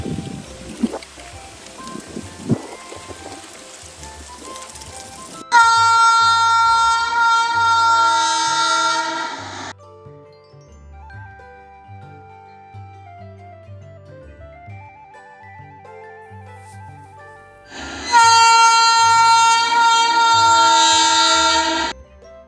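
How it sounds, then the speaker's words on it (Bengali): Darjeeling toy train on its hillside mountain line near Tindharia, sounding two loud, sustained, harmonic horn blasts separated by a stretch of lower rumble and clatter from the passing carriages. "আপনারা নিশ্চয়ই শুনতে পাচ্ছেন টয় ট্রেনের আওয়াজ"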